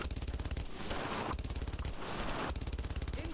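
Rapid machine-gun fire from the video game Brothers in Arms: Road to Hill 30 rattles in three sustained bursts of evenly spaced shots, loud and close, with short gaps of noisy rumble between them.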